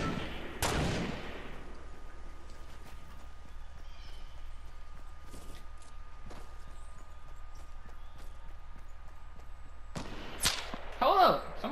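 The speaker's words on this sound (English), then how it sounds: "Somebody else sniping." Sniper rifle shots in a video game ring out as a few sharp, isolated cracks spaced far apart, the loudest near the start and end, over a faint background.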